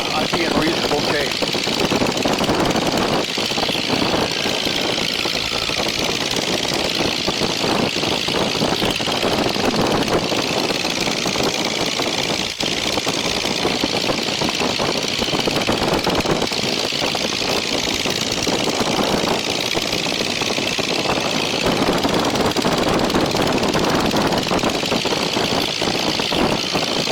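A Legal Eagle XL ultralight aircraft engine runs steadily and loudly for the whole stretch, a constant droning roar with wind rush and no pauses, recorded close to the engine.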